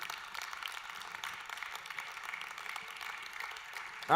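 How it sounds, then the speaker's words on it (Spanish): A church congregation breaks into loud, sustained applause, dense clapping holding steady throughout before a sudden burst at the very end. "Le da ese aplauso fuerte."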